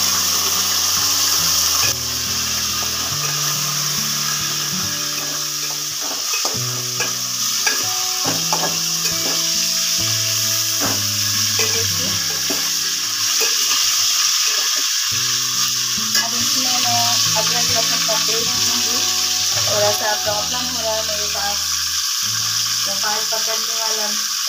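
Meat (gosht) frying in a pan with browned onions for a Kolkata-style chana dal khichra, steady loud sizzle with stirring scrapes throughout, under a repeating music bed.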